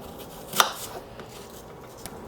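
A knife slicing through a peeled red delicious apple, one sharp, close crisp cut followed by faint softer scrapes and a small tap near the end.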